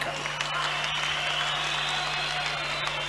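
Sustained applause from a conference crowd at an ANC provincial gathering in KwaZulu-Natal, a steady wash of clapping holding at an even level throughout with a constant hum underneath.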